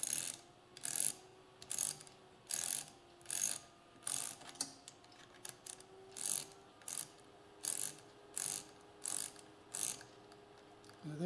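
A ratcheting wrench draws a piston pin into a Yamaha YL1 piston, making a regular series of short, crisp ratchet clicks about once a second over a faint background hum.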